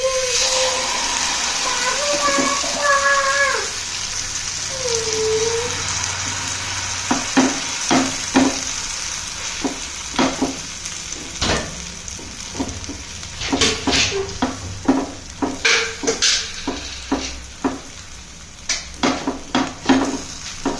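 Oats dosa batter poured onto an oiled pan, with a steady close sizzle and frying hiss, a few tonal squeaks early on and many sharp clicks and scrapes of a utensil on the pan throughout.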